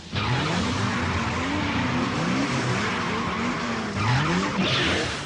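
A car engine revs hard while its wheels spin and squeal, stuck in sand; the whine rises and falls in several bursts, loud and close, with no talking.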